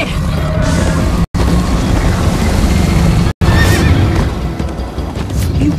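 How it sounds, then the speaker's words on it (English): Horses neighing and galloping during a chase in Minecraft: Story Mode, loud rapid hoofbeats with whinnies over a rushing, busy game soundscape, broken by two brief silent cuts. "First time on a horse here."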